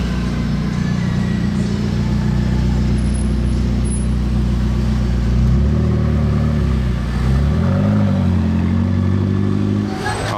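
A McLaren 650S Spider sports car passes along a Monaco street with a loud, sustained engine drone, the pitch rising and shifting midway as it accelerates by, over busy traffic noise and no audible talk.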